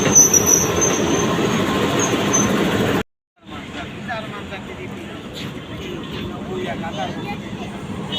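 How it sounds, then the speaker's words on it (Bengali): A Bhatiapara train bound for Bhanga, coming from Bhatiapara, rumbles steadily through Rajbari railway station, with wheel squeal and brief high whines; the sound cuts out for a moment and then resumes with nearby talk over the rail noise. "যে ট্রেনটি দেখতে পাচ্ছেন, ভাটিয়াপাড়া থেকে ছেড়ে আসা ভাঙাগামী ভাটিয়াপাড়া ট্রেন।"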